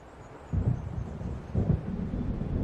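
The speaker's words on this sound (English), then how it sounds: "It seems there's a storm coming." Low rumbling thunder of an approaching storm in the video game Alan Wake Remastered, rolling in two swelling waves over a steady windy background, deep and moderately loud with no voices.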